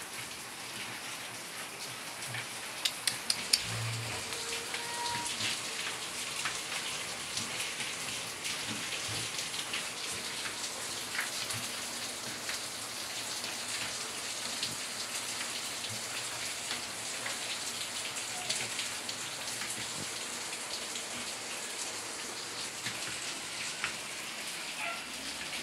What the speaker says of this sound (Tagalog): Mahirap pala pagka umuulan, lalo na't ganito.